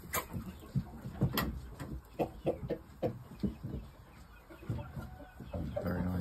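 A gamebird chicken clucks repeatedly at close range in short irregular bursts, with other fowl faintly audible behind and a steady hum running underneath.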